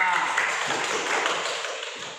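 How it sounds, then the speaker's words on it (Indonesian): Classroom students clap together for a classmate, a brisk crowd of hand claps filling the room at steady strength and thinning slightly toward the end. "Tepuk tangan kepada Naura"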